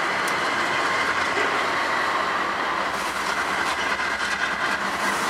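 A CSX freight train rolls by on the rails with a steady, loud rumble and faint rhythmic wheel clatter that lasts throughout, nearby and with no voices over it.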